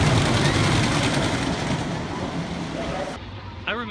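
A roller coaster train on the Zambezi Zinger rumbles past nearby in a loud, steady roar that cuts off abruptly near the end, with a brief voice afterward.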